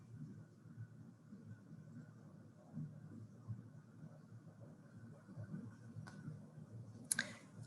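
Computer mouse clicks while requesting leave on a calendar, a couple of sharp faint clicks near the end over quiet room tone and low background hum.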